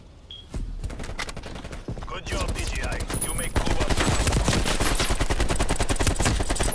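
Rapid AK assault rifle fire in Call of Duty: Black Ops Cold War, loud dense bursts of automatic gunfire with game effects, building to near-continuous shooting under a player's voice.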